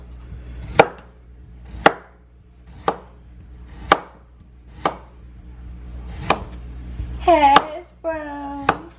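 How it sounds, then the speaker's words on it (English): Knife slicing peeled potatoes for hash browns on a cutting board: about eight sharp, evenly spaced chops about a second apart, with a voice-like tonal sound briefly overlapping the last two. "Slice the potatoes."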